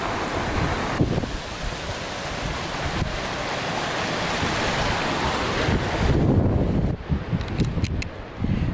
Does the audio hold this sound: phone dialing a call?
no